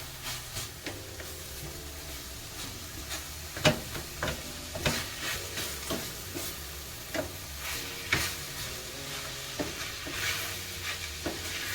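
A meatless ground jerk taco mixture is spread and pushed around a hot pan, giving a soft continuous sizzle with repeated scraping clicks of a utensil at an uneven pace, close and fairly quiet, with no speech.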